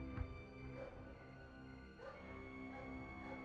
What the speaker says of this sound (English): the unnerving barking of dogs that could come charging at you at any moment